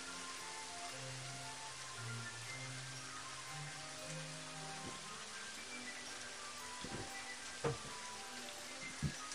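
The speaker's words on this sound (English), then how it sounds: "God, all that rain." Steady rain falls in the Elder Scrolls II: Daggerfall game world, a dense even hiss throughout, with a few sharp louder taps and low tones near the end.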